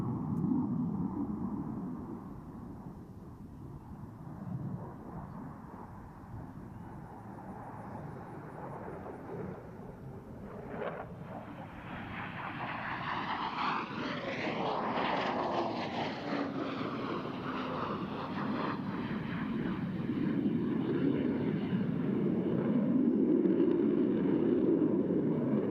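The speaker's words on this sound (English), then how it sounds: "snap the F-16 through a series of aileron rolls, demonstrates exceptional roll maneuverability" F-16 fighter jet performing aileron rolls at an air show, a distant engine roar that swells and sweeps past with a rising, falling pitch, then lingers as a rumble.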